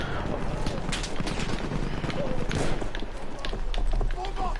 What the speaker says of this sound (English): There's another dude on the horse.